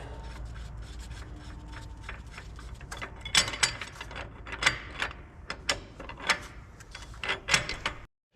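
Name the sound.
rolling the crankshaft of a John Deere 4840 tractor engine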